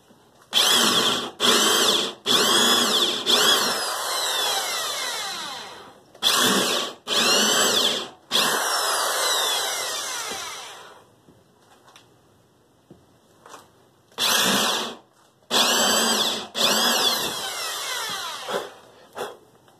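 A power drill whines at high speed in repeated bursts, biting into wood, with short pauses and quieter gaps between runs.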